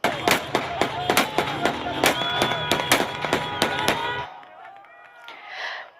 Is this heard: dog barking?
no